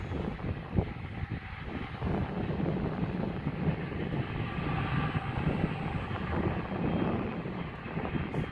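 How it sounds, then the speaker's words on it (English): A passenger jet takes off from an airport, a steady, heavy engine roar holding at a constant distance throughout without speech. "So the plane is about to take off."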